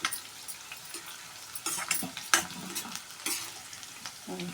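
Green chillies and tempering spices sizzle and fry in a pan for a Telugu boti curry, with steady crackling broken by several louder bursts of spattering and stirring scrapes close by.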